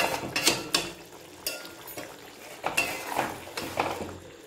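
Bata fish with onion paste being stirred in a pot, heard as repeated close metallic scrapes and clatters of a spoon against the pot in uneven strokes, with no speech.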